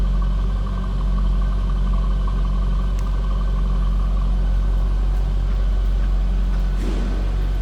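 A 2003 Chevrolet Corvette 50th Anniversary convertible with its LS1 V8 idles steadily through a stock exhaust, a close, continuous low rumble heard from behind the car with no talk.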